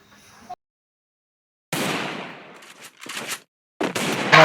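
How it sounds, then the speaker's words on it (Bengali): Sharp bursts of gunfire from the Free Fire video game, a long crackling volley followed by shorter bursts separated by brief gaps, with no talk. "ফ্রি স্টাইল ওপি লেভেলে একটা হেডশট দিয়ে ফেলেছি প্রথম রাউন্ডেই।"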